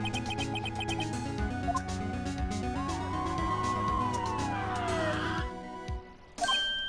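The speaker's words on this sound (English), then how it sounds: "I think those are different siren noises from the original game" A synthetic police siren in the video game Phoenix Wright: Ace Attorney wails and sweeps up and down amid layered electronic game music and tones, ending abruptly before a brief burst of noise.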